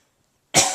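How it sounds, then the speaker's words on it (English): A man gives a single sharp, close cough that bursts in suddenly after near silence and stays loud for its short length. "Daddy's gonna cough one more time, okay?"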